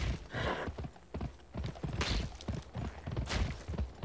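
Horse hooves clip-clop in the Western video game Gun, a close, rhythmic run of hoofbeats with a brief whinny-like call, no talk over it.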